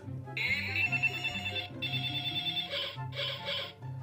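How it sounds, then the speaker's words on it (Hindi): Phone ringtone plays as a call is placed in a children's cartoon about toy trucks and dolls, a bright repeating electronic melody in clear bursts with brief gaps and soft background music beneath. "सबसे पहले फोन लगाते हैं।"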